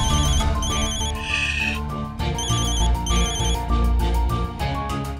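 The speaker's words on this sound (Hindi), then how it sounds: "अरे ये तो अर्जुन का फोन है" A phone rings in a Hindi TV drama scene, repeated bursts of electronic ringtone chirps pulsing over a steady background music bed, fairly loud and continuous for several seconds.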